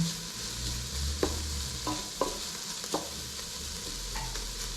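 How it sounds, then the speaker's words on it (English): Carrots fry in a large pot with very little oil for lentil soup, a steady sizzle broken by several sharp scrapes of stirring. "This can do its frying."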